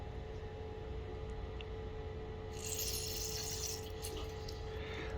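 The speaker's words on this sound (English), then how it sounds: "Got a leak from this tap." Water leaks from a tap on a half-barrel home brewing kit during the sparge, a faint steady trickle that rises into a brighter splashing hiss halfway through and carries on to the end.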